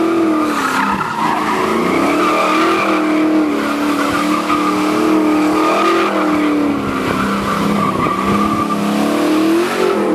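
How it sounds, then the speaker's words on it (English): Classic car doing donuts, its tires squealing in a loud sustained skid with a wavering pitch under a revving engine, close up and continuous throughout. "10 minutes after the car's running, he's out doing donuts."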